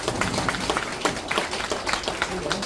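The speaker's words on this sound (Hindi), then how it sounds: "ताली बजाइए।" Audience clapping at a trade union workers' programme in a hall, uneven and fairly close, with voices mixed in among the claps.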